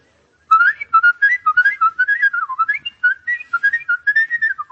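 A man whistles a tune alone, a bright, nimble melody of quick trilled and warbling notes that run steadily for several seconds, close and clear.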